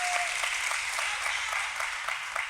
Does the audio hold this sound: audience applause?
yes